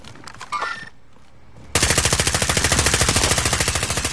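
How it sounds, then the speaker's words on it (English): Automatic gunfire in the Warzone video game opens after a brief lull and a short burst, continuing as a loud, rapid, evenly spaced stream of shots to the end. "Receiving hostile fire."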